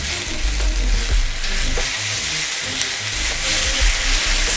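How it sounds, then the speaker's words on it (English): Roughly chopped vegetables frying in a pan for beef birria, a loud close sizzle with a spoon stirring and scraping through them, heard alone without talk. "And give that a good old stir around"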